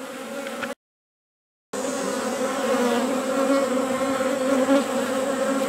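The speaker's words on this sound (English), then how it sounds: "Let's see what's going on the frames and what bees are doing with the new queen." Honeybees buzzing over hive frames after a new queen is introduced, a close, steady humming drone that cuts out briefly near the start, then returns slightly louder.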